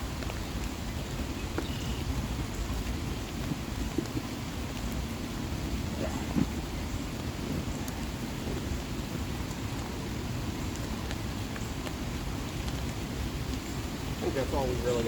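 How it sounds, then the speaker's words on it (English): Steady rain falls outdoors beside the flooded Potomac River, a dense even patter and hiss with faint scattered drops and no speech throughout. "the rain is coming."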